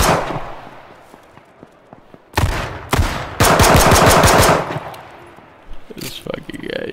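Bursts of rapid automatic gunfire in a video game, with a long rattling volley in the middle and shorter shots around it, loud and close over quieter stretches of faint clicks.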